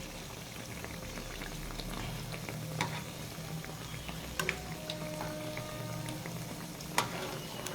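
Jaggery poa pitha fries in hot oil with a continuous close bubbling sizzle, punctuated by a few sharp clinks and scrapes as the browned pieces are lifted out; no one speaks.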